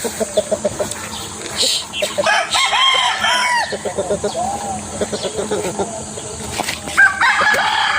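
Chickens cluck and a rooster crows nearby, with wings flapping and a person talking over the busy, close flock.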